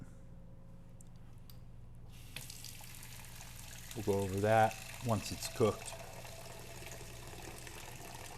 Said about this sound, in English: we'll reuse the water I'm putting in here